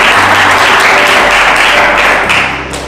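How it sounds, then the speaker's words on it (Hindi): A church congregation claps hands in praise, loud sustained applause with dense overlapping claps that tapers off at the end. "ताली बजाकर प्रभु की महिमा करें।"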